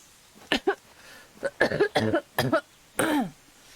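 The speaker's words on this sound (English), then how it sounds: "Excuse my coughing." A series of short, dry coughs close by, several bursts in irregular succession with brief pauses between them, from a person with COVID.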